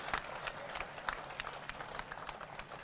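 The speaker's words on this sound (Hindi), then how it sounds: "जोरदार तालियां बजाओ भाई," A crowd claps at a political rally: scattered, irregular bursts of applause, fairly faint and distant, with no voice over them.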